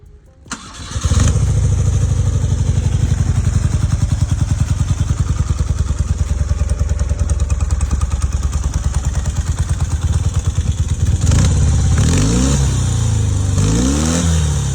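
Vintage BMW R100/7 motorcycle boxer engine starts and runs steadily at close range with a loud, continuous throbbing idle, then is revved up twice near the end, each blip rising and falling.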